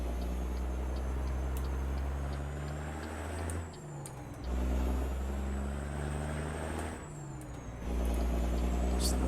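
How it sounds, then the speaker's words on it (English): A heavy truck with an open pipe exhaust in the video game American Truck Simulator drones with a deep, steady low rumble, rising and falling slightly, with a brief dip midway and a soft hiss near the middle. "Just listening to that open pipe sound."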